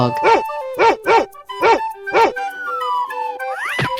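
A toy dog barks electronically, five evenly spaced loud barks close up, followed by a sustained tone and a rising chirp.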